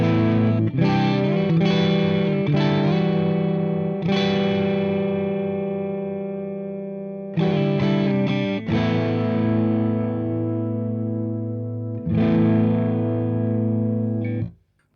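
Marshall DSL20HR tube guitar amp with crunch and reverb, sustained distorted chords struck in a few separate strums that ring out and slowly decay, loud and close with no talk.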